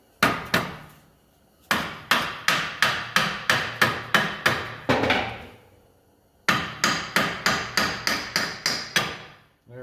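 A hammer strikes repeatedly to free the axle from the wheel bearing of a VW MK4, coming as sharp metallic blows in three quick bursts of about eight to ten evenly spaced hits, separated by brief pauses, with no talking.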